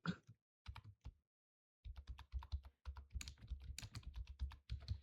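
Code being typed on a computer keyboard, with bursts of rapid, close key clicks broken by short pauses and no talking.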